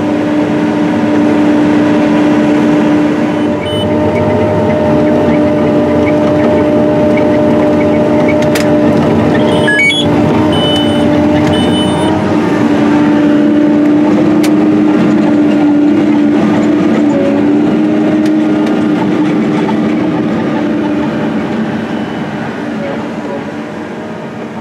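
Large tractor pulling a corn planter in a field, a loud steady engine drone with a sustained humming tone and occasional rattles and clicks, continuous and close.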